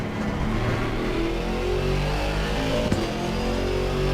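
A front-mid engine GT2 race car in a racing video game at Red Bull Ring, its engine droning steadily and loud throughout with a sustained mid-pitched rev and no talk.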